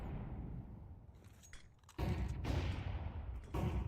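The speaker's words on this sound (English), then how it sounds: "Some nice flashbangs" Flashbang grenades going off during a professional Counter-Strike match in the European Pro League: three sharp, loud broadband bursts at intervals over steady in-game background noise.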